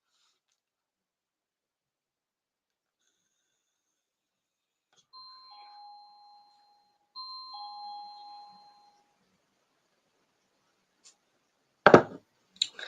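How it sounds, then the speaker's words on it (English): A two-tone ding-dong doorbell rings twice in a quiet room, with a brief clatter of handling noise following. "The doorbell's gone, so bear with me one moment."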